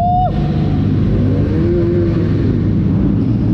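Loud, droning engine roar with reverberant rumble of many superbikes, including Kawasakis, revving through an enclosed tunnel on a group ride in Chhattisgarh, continuous and close throughout.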